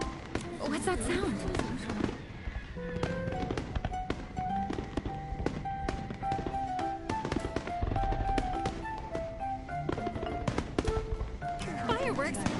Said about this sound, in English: Fireworks? That's definitely fireworks.